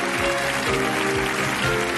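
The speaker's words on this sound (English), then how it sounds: "So please, carry on clapping" Sustained clapping from a 1993 television quiz studio audience, a steady, dense wash of applause holding at the same level throughout with no talk over it.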